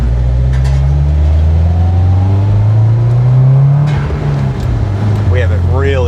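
A tuned Subaru WRX STI with a 500 HP build revs up under boost: loud, steady engine drone rising in pitch over several seconds, then easing off, with a voice speaking near the end.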